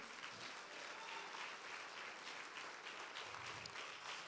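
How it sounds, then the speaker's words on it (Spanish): Steady applause from a congregation during a church service, continuous and fairly faint, filling the whole stretch with no talk. "Dale un aplauso a Cristo, aleluya."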